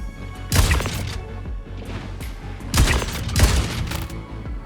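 Dense bursts of automatic gunfire in the Star Citizen game, loud and close, come in two heavy volleys with booming impacts and a constant rumbling background between them.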